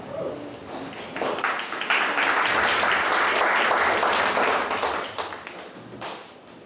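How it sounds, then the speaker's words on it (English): Applause breaks out for kids about to perform in a school American history showcase, with the claps building fast, holding dense and loud for several seconds, then tapering off. "Now cheer on these kids as they perform Stolen Stones"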